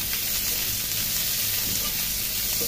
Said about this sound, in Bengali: এবার পেঁয়াজ এবং রসুন দুইটাকে খুব ভালো করে ভেজে নিতে হবে